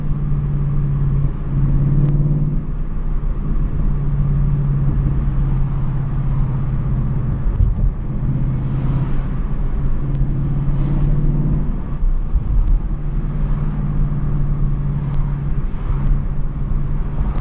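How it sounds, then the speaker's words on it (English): A 2016 Ford Mustang GT with a loud aftermarket exhaust rumbles steadily and deeply from inside the cabin while accelerating down the road, a constant low drone throughout with no voices. "Yeah, I like hearing that exhaust."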